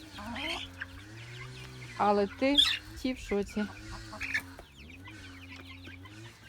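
Chickens cluck and squawk close by, with a louder burst of agitated clucking in the middle, while someone talks over them.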